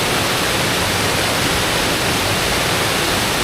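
Hindhope Linn waterfall in Northumberland, running full, producing a loud, dense, unbroken roar of falling water heard up close with no other sounds.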